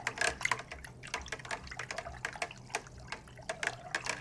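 Beneficial nematodes are stirred into warm water, making soft, close splashing and sloshing with irregular drips and swirls, fairly quiet throughout.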